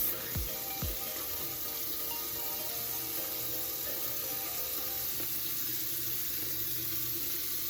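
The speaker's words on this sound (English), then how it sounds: "I will put some hot water on my face." Running hot water at a bathroom sink splashes as it is cupped onto the face, a steady close hiss of flowing water with a couple of brief knocks at the start and no talking.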